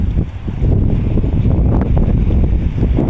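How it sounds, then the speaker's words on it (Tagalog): Gusty wind buffets the microphone at a seaside fishing spot, a continuous loud low rumble with no voices. "Dito mahangin banda dyan,"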